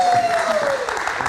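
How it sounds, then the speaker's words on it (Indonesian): Applause from a live studio audience on an evening talk show, steady broadband clapping throughout, with a sustained tone and voices mixed faintly underneath. "kita berikan tepuk tangan sekali lagi"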